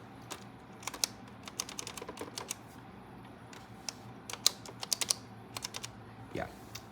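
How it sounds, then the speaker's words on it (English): Sharp plastic push-button clicks on a 1969 Western Electric 2500 desk telephone tap out in quick irregular bursts, close and crisp, over a quiet background hum. "All the buttons are nice and clicky."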